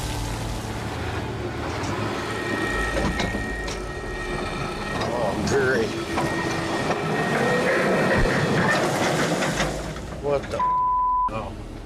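A faulty 460 excavator swings with mechanical trouble at a gold mining site, giving a rumbling, grinding machine noise with squealing, sliding tones that swell and then cut off near the end.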